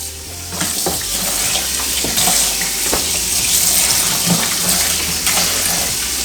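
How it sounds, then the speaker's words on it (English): Cold tap water runs steadily while catfish fillets are rinsed under it in a home kitchen, making a continuous close splashing hiss with small handling clatters and no talk. "I'm rinsing it off with cold water"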